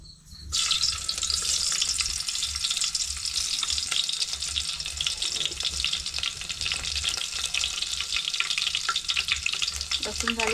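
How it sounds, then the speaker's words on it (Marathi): Garlic hits hot oil and bursts into a loud, dense sizzle that continues steadily for about ten seconds, close and hissing with occasional stirring scrapes, and no one speaks. "तेल आता तापलं की लसूण टाकायचे लसूण टाकते तेल तापलंय आता"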